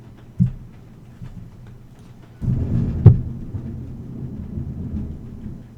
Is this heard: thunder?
yes